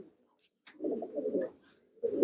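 Racing pigeons coo inside a loft: one long, low, throaty coo, a brief pause, then another begins. The sound is close and moderately loud, with a faint chirp in between.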